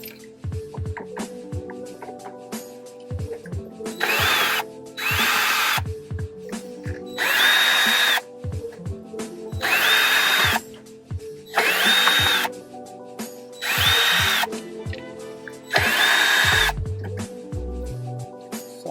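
A power drill backs out old screws in repeated loud bursts of whirring, each a second or two long, separated by softer clicks and handling noise.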